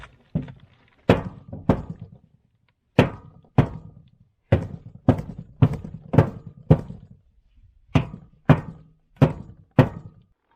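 A galvanized steel stock tank being banged around its drain hole to form a groove: a steady series of loud, close metallic thunks in uneven clusters, each with a short ringing decay.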